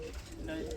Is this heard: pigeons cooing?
yes